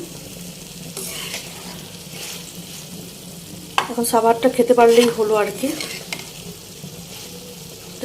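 Pigeon curry is sautéed and stirred in a pan, giving a low, steady sizzle with occasional scraping stirs, while a voice speaks briefly in the middle.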